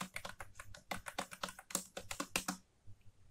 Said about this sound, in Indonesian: Mengetik pada MTEK STK03 ini sangat tidak nyaman.